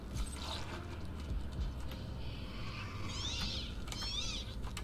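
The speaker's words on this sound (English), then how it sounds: "Sounds like a fucking cat." Meow-like creature calls from a Borderlands game, a few rising wavering cries over a steady mechanical drone and creaking ambience, moderately loud near the end of the clip.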